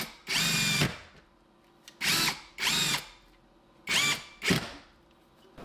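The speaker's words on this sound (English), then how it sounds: "Next on my drill, I've got a socket to drill adapter that I can use to put these included screws into the wall with" A power drill with a socket adapter drives screws into a wall, five loud whirring bursts of about half a second to a second each, separated by short pauses, close and without talk.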